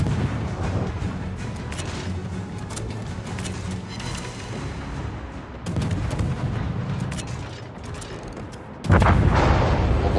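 Ship guns firing in World of Warships, with a destroyer firing from smoke: heavy booming salvos over a rumbling battle backdrop, the loudest blast coming near the end, with no speech.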